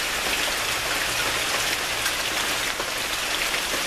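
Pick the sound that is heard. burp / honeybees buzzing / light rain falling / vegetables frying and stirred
light rain falling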